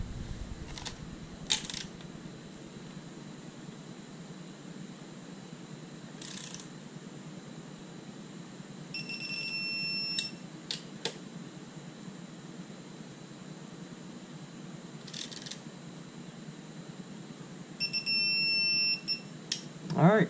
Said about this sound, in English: Probably won't be able to see the screen, but you'll hear the beeping.